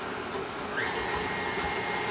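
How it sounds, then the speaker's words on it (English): Electric stand mixer beating egg yolks with sugar for chocolate ice cream, a steady whirring motor hum running throughout at moderate level with no talking. "Put that into our mixer and mix that up."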